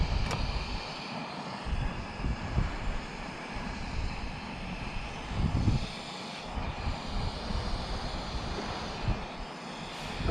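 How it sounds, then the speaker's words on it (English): Outdoors on a fell, a camping gas canister stove roars with a loud, steady, breathy hiss from close by, sheltered behind a wall. Faint gusts of wind come and go, and no one speaks. "That's a noisy old new gas canister."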